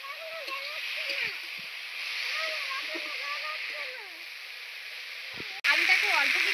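Grated potato frying in a pan with onions while cooking amudi fish, a steady soft sizzle running throughout beneath a faint chirping tone, then growing louder near the end.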